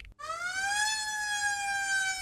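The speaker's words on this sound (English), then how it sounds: "The ambulance drives up to the school, its siren flashing" An emergency siren sounds alone, a single loud sustained wailing tone that rises and then holds steady with a bright harmonic edge, after a brief moment of near silence.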